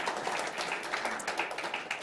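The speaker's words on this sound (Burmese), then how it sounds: "လက်ခုပ်တီးလက်တီးပြီးပါအာမင" A church congregation at a Sunday worship service claps their hands in a steady, fairly loud patter of overlapping claps lasting two seconds.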